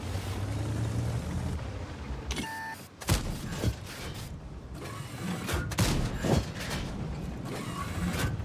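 Video-game tank battle with the AS-XX 40t: sharp cannon blasts and clanking mechanical reload noises over a steady rumble, several loud impacts spread through a few seconds, no talk.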